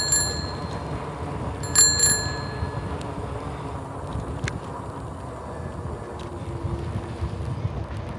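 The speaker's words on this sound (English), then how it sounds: "Everybody on this trail is pretty good about listening for the bell." A bicycle bell rings out in a quick double ding, then another brief pair, on a riverside trail, over steady wind and rolling bike noise.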